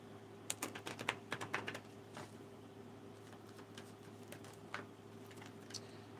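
A tarot deck being split by hand, giving a quick cluster of crisp card clicks and taps early on, followed by a few sparse, fainter ticks over a low steady hum.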